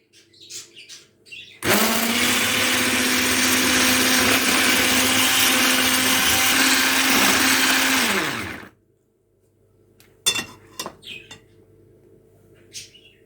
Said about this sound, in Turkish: İlk olarak her zaman her kekte yapıldığı gibi toz şeker ve yumurtayı güzelce köpük köpük olana kadar çırpacağım